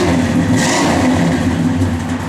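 A 1967 Pontiac GTO V8 with a lopey cam, revving briefly and loudly nearby, a deep throaty rumble swelling and settling, with no voices.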